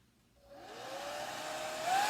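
Heat tool drying a craft project for a Nutcracker board and base, a steady blowing whir that switches on and rises in pitch, running alone and close.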